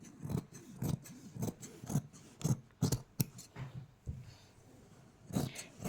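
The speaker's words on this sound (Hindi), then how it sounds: "ये देखिए मैंने कपड़े के ऊपर लाइनिंग को रख लिया, जो मैंने लाइनिंग काटी थी, और हमने इसको काट लिया है" Scissors cutting through fabric with a lining laid on top for a suit, a series of crisp snipping strokes in an uneven rhythm, close and clear with no talk.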